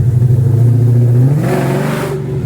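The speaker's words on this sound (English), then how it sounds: "Yeah, rev it up." A car engine revs hard and loud up close, its low growl climbing and then surging into a brighter roar, with no talk over it.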